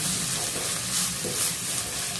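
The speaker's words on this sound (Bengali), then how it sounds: "ভাজা ভাজা করে নেব।" Mixed vegetables fry in a pan for momo manchurian, giving a close, steady sizzle with light crackles and soft stirring scrapes throughout.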